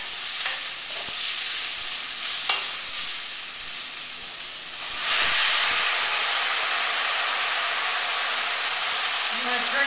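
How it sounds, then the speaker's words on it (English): White wine poured into a hot pan to deglaze it, giving a broad steady sizzle and hiss that jumps louder midway and then holds, close up. "you want to use the white wine to deglaze the pan"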